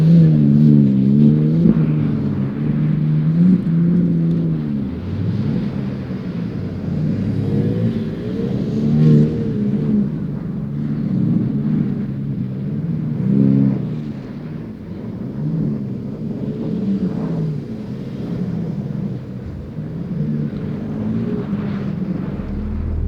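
A 510hp rear-wheel-drive BMW drives on ice with short shifts straight into second. The engine surges and drops steadily in repeated revving bursts at moderate distance, with no voices over it.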